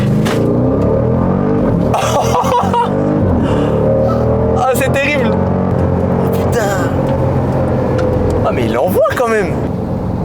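A Jeep Grand Cherokee SRT engine roars and revs through a hard launch-control run on a straight road, loud cabin engine sound with rising and falling pitch through gear changes, while people talk over it throughout.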